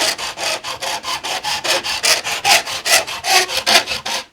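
Wooden frames of a Bluenose model ship are sanded by hand, steady rhythmic back-and-forth rasping strokes, about four per second, close and clear with no talking.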